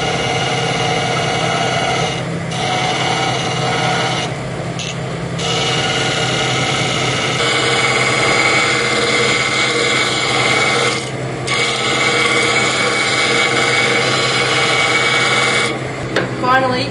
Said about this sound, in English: Make sure you hold the wood firmly against the sander to stop it from sliding.